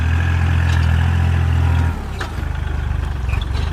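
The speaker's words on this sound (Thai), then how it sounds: "รถไถเล็กครับ คันจิ๋วแบบมินิเลยครับ" A small mini tractor engine runs close by with a low, chugging throb that drops in pitch and loudness partway through, leaving an uneven, pulsing idle.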